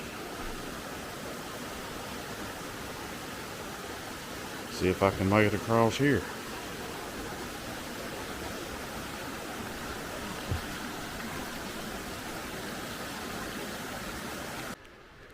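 A stream at a water crossing on a hiking trail toward Ellicott's Rock, a steady close rushing wash of flowing water throughout, briefly under a man's short spoken remark.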